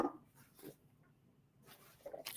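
A dog named Kiyomi barks on a street, a few sharp, fairly faint yaps spaced apart with quiet gaps between them.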